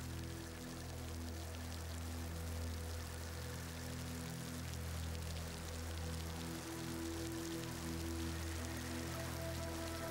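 Rain falls steadily over the Amazonian marshes as a soft, even patter, heard at a distance with a faint low hum running beneath it.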